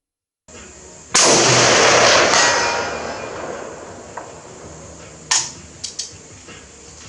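A single loud, close rifle shot from a Hillbilly Firearms 7.62x51mm Galil AR cracks out and rolls into a long fading rumble, followed a few seconds later by several sharper, fainter clanks.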